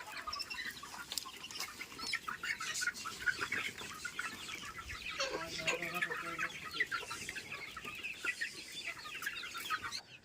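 Country chickens and young chicks cluck and chirp continuously on a village farm, a busy close flock with overlapping calls throughout, with brief talk in the background.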